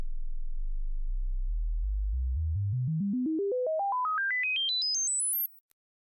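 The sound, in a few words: stepped frequency sweep test tone, 20 Hz to 20 kHz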